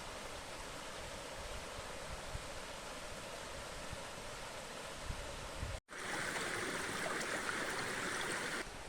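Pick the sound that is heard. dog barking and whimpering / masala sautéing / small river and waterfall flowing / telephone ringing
small river and waterfall flowing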